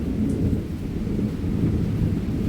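A low, rolling rumble of thunder sounds during heavy rain, with steady rain noise throughout.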